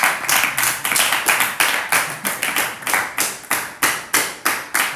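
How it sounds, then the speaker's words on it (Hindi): An audience at a Hindi devotional talk claps its hands in a brisk, fairly even rhythm of sharp, loud, close claps, roughly two to three per second, with no talk over them. "तालियां किसके लिए बजा रहे हो आप लोग?"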